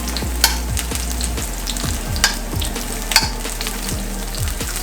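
Onion frying in a pan for Jamaican stew chicken, a steady close sizzle with rapid crackling pops throughout and a few louder spits, with no voices.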